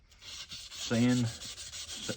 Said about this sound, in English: go ahead and sand all the way up really hard up to the choil right here where the sharpening choil is